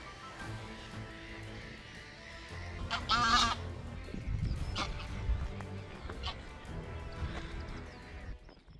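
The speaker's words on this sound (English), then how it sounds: "the Canadian geese." Canada geese honk loudly in a few bursts at RSPB St Aidans nature reserve, with quieter calls and a low rumble of movement between them; no talking.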